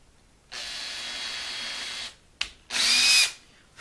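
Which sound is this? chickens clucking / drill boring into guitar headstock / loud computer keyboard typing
drill boring into guitar headstock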